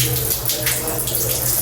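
Water runs steadily into a plumbing pit trap at a construction project, a continuous close splashing and gushing flow that fills the whole stretch without pause.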